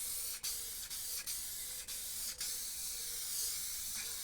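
Granit effect light grey spray paint hisses onto a canvas in short, steady bursts separated by brief pauses, a close, even aerosol spray sound with no talking.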